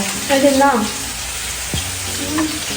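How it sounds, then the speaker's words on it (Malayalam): Chicken pieces frying in hot oil in a home kitchen, a steady sizzle with brief stirring sounds near the start, close and moderately loud, with no talk over it. "ചിക്കൻ പൊരിച്ച് മാറ്റി വെക്കുന്നു"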